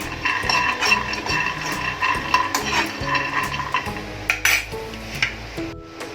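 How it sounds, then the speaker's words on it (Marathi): Peanuts dry-roasting in a pan for a peanut and niger-seed chutney, stirred steadily with a utensil that scrapes and clinks against the metal in an irregular, close, moderately loud rhythm without talk. "आपण आता हे शेंगदाणे पहिले भाजून घेऊया"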